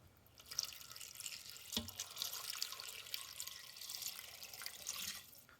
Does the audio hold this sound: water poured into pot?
yes